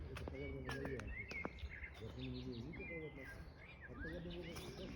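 Nightingales sing outdoors at dusk in July, with varied whistles, trills and chirps repeating in bursts at moderate distance over a soft, steady background.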